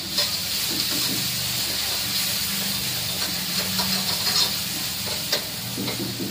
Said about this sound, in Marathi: थोडंसं परतून घेऊया आपण हे मिरची आणि लसूण